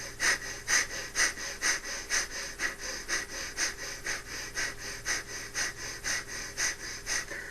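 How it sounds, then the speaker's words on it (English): Breath of fire, a rapid yoga breathing exercise done with the arms raised in a V, sounds as steady, quick, forceful nasal exhales. There are about two per second, close and rhythmic, with no talking. "and you do breath of fire."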